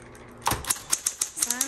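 A 1970s Smith Corona Electra 210 electric typewriter types a quick, evenly spaced series of sharp key strikes after a brief hum, close and clear, with speech present.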